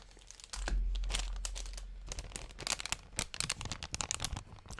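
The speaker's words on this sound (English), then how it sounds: "the sounds of plastic wrappers being rustled" Plastic wrappers crinkle and crunch up close, with dense irregular bursts of rustling that grow busier and louder toward the end, no talking.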